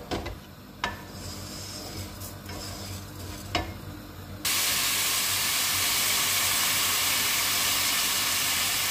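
Saffron rice sizzling in a pan, light stirring scrapes and clicks under a steady hiss until broth is poured in and a loud, continuous sizzling roar takes over for the rest.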